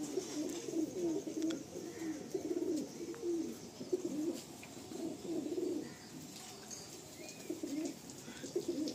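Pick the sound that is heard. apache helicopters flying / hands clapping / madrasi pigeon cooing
madrasi pigeon cooing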